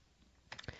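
Several quick keystrokes on a computer keyboard after a short quiet stretch, soft and close, landing in a brief irregular burst with no talk.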